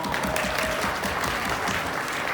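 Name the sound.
wedding guests applauding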